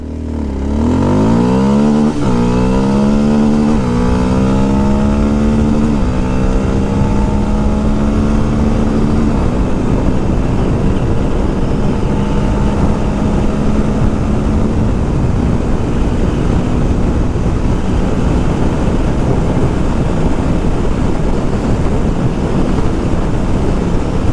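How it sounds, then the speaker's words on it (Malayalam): A Kawasaki KLX230 off-road motorcycle accelerates hard from standstill on a good road, the engine revving up through several quick gear changes, then holding a loud, steady high-speed drone with heavy wind rush. "അതായിരുന്നു വണ്ടിയുടെ ഒരു 0 to 100 പെർഫോമൻസ്"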